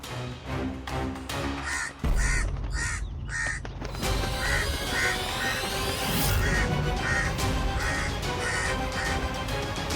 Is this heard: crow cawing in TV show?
yes